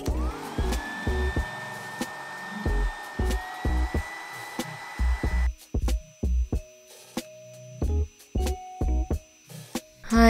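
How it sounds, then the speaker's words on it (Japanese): Hair dryer blowing on hair at home: a steady whooshing hum runs for several seconds, then stops, with clattering handling knocks and bumps throughout, close and moderately quiet. "髪の毛乾かします。"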